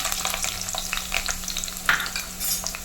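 Chopped onion goes into hot coconut oil in a clay pot and fries with a soft, steady sizzle, broken by scattered stirring clicks, with no talking.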